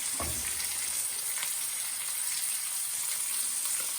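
Onions frying in a pan for Chinese-takeaway-style sweet and sour chicken, a steady close sizzle with a soft stirring knock at the start, no talk.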